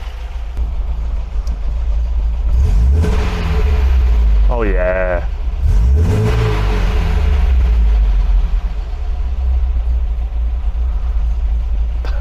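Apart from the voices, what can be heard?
MGB car engine revving as throttle is flipped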